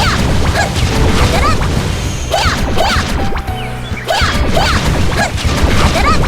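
Magic attacks firing in the Elsword video game: rapid repeated blasts, crashes and whooshing effects over dense game audio, loud and continuous with a brief lull in the middle.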